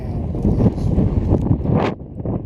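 Strong gusts blow across a lakeshore where canoes and a kayak are pulled up, a continuous loud rushing buffet of wind on the microphone that swells and fades with a brief sharp flutter.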